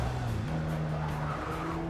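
Race car in Forza Motorsport 6 sliding on a tricky track at night, tires squealing in a steady skid over a loud, droning engine whose pitch rises partway through, continuous and close.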